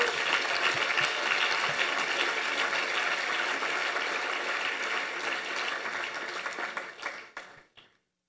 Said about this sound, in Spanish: Dele un aplauso al Señor ahora.